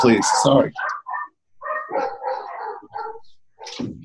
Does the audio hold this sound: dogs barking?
yes